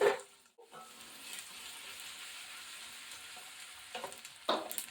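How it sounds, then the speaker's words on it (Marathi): Finely chopped onion fries in hot oil in a kadhai, giving a soft, steady sizzle at moderate distance, with a few louder scraping stirs at the start and near the end. "आपण त्याच्यामध्ये टाकूया कांदा एक कांदा घेतलेला आहे बारीक चिरून"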